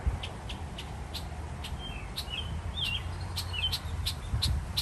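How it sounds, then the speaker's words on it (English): Small bird chirping in a Japanese garden, short high calls repeating at irregular intervals over a steady low outdoor rumble, moderately close but not loud. "I'm gonna try and show you this bird"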